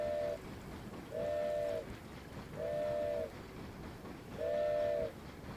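Four evenly spaced blasts of a train whistle in the video game Dinkum, each held about a second with short gaps between, clear and fairly loud over a faint background hum.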